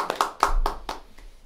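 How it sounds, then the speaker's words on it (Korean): A few separate claps from an audience thanking a lecturer at a community welfare council training session, sparse and uneven with gaps between hand strikes rather than a full ovation. "다시 한번 큰 박수 부탁드리겠습니다"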